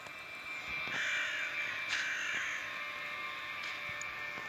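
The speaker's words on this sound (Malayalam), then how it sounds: "എന്താ കാക്കയുടെ വിളിയൊക്കെ." Crows cawing in a cemetery by a locked church in the horror video game Death Park, several harsh, fairly loud caws in quick succession over a quiet hiss.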